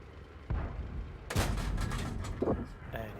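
Tank cannon shots in the World of Tanks video game: a couple of heavy booming blasts over steady game background rumble, with the second blast the loudest.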